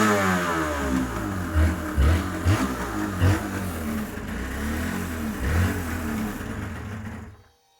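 Yamaha TDR250 motorcycle engine revved repeatedly in short blips over a steady idle, each rise sharp and close, ending as the engine cuts off.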